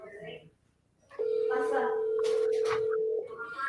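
Phone placing a call with a steady, loud single tone lasting about two seconds, alone, with talking just before and just after it.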